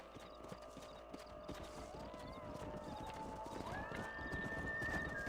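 Horses in the Red Dead Redemption game on PC trot with steady, close clip-clopping hooves. A whinny rises over the hoofbeats, backed by a continuous ambient tone that climbs in pitch near the end.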